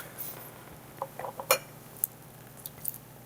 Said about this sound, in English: Cara, let's go ahead and pour this into 2 glasses